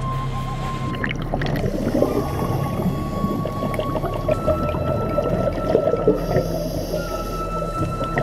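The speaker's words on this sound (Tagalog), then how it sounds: "Ilang sandali pa ay nasa ilalim na kami ng dagat." Underwater ambience while scuba diving at sea off Apo Island: a steady muffled wash of water and bubbling with faint tonal whines from equipment, continuous and moderately quiet, with no speech.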